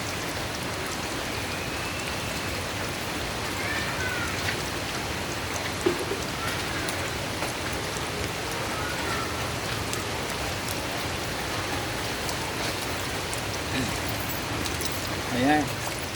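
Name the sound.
rain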